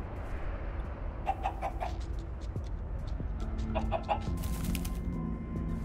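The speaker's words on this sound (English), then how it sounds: "Oh, it's a king chicken." A king chicken in Minecraft: Story Mode clucks in short repeated bursts, two or three quick clucks at a time in separate clusters, near and clear over a steady noisy background.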